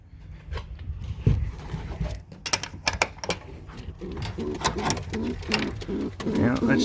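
A pigeon coos and shuffles close by in a loft, with rhythmic clicks and rustles and a person talking softly over the bird sounds.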